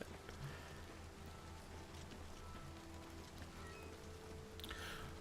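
Rain falls in the video game The Elder Scrolls IV: Oblivion Remastered as a soft, steady patter with faint drops, quiet and continuous throughout.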